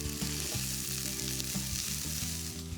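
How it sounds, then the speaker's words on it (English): Fennel and leek sauté in a pan, a steady close sizzle with light stirring scrapes running the whole time, no voices. "I'm cooking some of my vegetables, my fennel, my leek"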